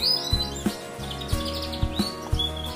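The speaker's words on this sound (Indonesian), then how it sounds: "Teman-teman biasanya memasukkan masteran Blackbird, G-Black, suara" Recorded songbird chirps and whistled phrases, played for training a young canary, repeat over a steady low background hum, with bursts of calls every half second or so.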